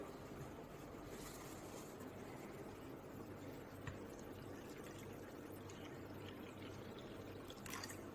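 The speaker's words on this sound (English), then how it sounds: "First step, add water." Water is poured onto scraps of soap in a soft, continuous trickle with a few faint drips, quiet and alone.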